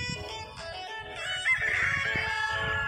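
A rooster crows loudly nearby in rural Quezon, Philippines, a drawn-out cock-a-doodle-doo rising over other fowl calling in the background.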